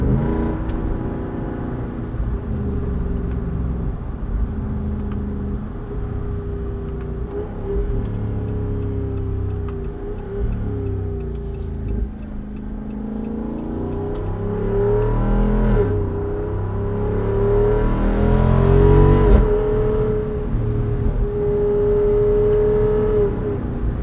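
Deep V8 rumble from a 2021 Jeep Wrangler Rubicon 392 with an open rag top, heard from inside while driving: a steady loud engine and exhaust note that rises and falls with throttle, swelling under acceleration.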